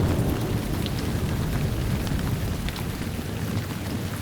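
Steady, dense rain pours down outdoors in a broad continuous hiss with low rumbling, unbroken and without voices.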